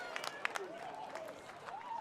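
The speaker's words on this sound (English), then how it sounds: "You can hear the claps in the background" Scattered rhythmic clapping from spectators at a track meet's triple jump sounds in the distance beneath a commentator's close voice, with faint crowd murmur throughout.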